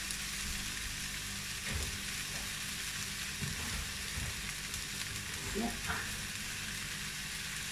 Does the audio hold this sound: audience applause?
no